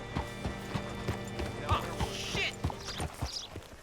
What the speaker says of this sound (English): Hitch your horse up here.